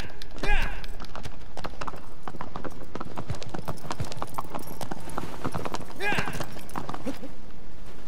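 Rhythmic clip-clop of horse hooves galloping steadily and close in the video game Shadow of the Colossus, with a couple of brief whinny-like calls and a voice speaking over it.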